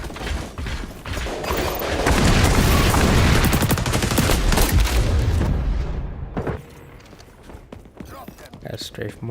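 Loud, dense bursts of gunfire from a close-quarters shooter video game, with rapid cracks and booms packed together for several seconds before thinning out into scattered, quieter shots.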